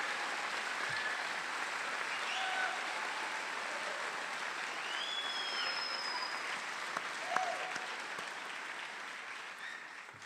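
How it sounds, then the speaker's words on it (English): Sustained applause from a large audience for graduates at a College of Dentistry commencement, a dense, even wash of clapping heard from a distance, with faint scattered calls over it. "every loved one right now should tell us exactly how much, with a tremendous applause, what you feel about your graduate"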